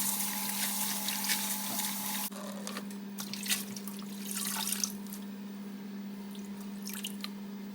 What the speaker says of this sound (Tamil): இப்போ வந்து இதை தண்ணியை விட்டு நல்லா கழுவி எடுப்போம்